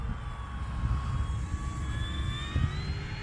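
An E-flite F4U-4 Corsair RC airplane flies past, giving off a steady high electric motor whine whose pitch slowly rises and shifts. Wind noise rumbles loudly underneath throughout.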